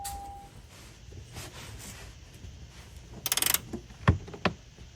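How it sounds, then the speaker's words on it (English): Bolts going back into a titanium rear brace: a quiet metallic rattle and jingle of fasteners, a short burst of clicks, then a few sharp taps near the end, with no talking. "Let's put the OEM bolts back in."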